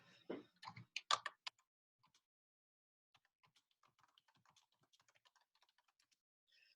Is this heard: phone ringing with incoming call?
no